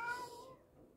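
A pet cat named Ben gives one short, faint meow close by, with its tone fading out halfway through.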